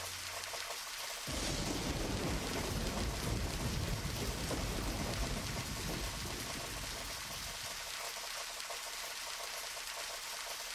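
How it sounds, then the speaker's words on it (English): Heavy rain in the game Deadly Premonition, a dense, loud, steady hiss of downpour that swells with a low rumble before settling, with no voices. "This rain's also bad."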